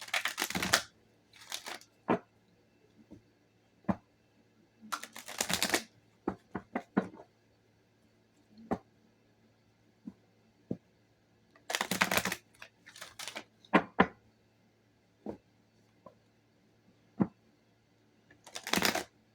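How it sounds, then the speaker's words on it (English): Three purple tarot decks being shuffled by hand, crisp riffling bursts coming in clusters with quiet gaps between them, close by and fairly soft, along with scattered single card taps. "Let me go ahead and give all these a good shuffle."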